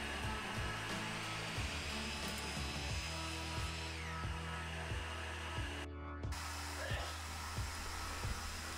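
A power saw cuts horizontal wood pieces for a hanging display, a steady motor whine broken by repeated regular thumps and bursts of cutting noise, recorded at a distance with no talk.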